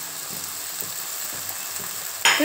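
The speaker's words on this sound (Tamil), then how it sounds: "இப்போ 2 முட்டை உடச்சி முட்டை வச்சுருக்கேங்க. இப்போ அதில் ஊற்றிக்கலாம்." Two beaten eggs hit a hot pan of onion and tomato for bread egg upma; a steady low frying crackle suddenly swells into a loud, bright sizzle at the end.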